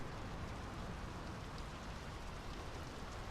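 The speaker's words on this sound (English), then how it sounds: "The rain's picking up." Steady rain in the video game Draugen, a dense, even hiss of falling drops pattering on surfaces, continuous and fairly soft with no voices.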